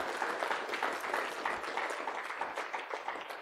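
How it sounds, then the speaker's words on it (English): A church congregation clapping hands together during a service, a dense, rhythmic burst of many hands heard at a moderate distance and fairly quiet, without talk. "let's give the Lord a hand clap"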